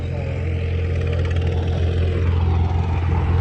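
New Holland 3630 tractor engine running, a loud, close, steady diesel drone with a deep low rumble and a slight rise in pitch midway, no voices over it.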